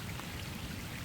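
Light rain falling during a Florida winter fishing trip, a soft continuous patter of drops heard close up, steady and quiet with no voices.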